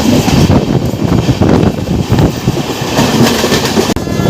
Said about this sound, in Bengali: হাওড়া মেদিনীপুর লোকাল।